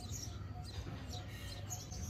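Small bird chirping at an outdoor breakfast spot in the mountains of Sri Lanka, faint high chirps over a low background rumble.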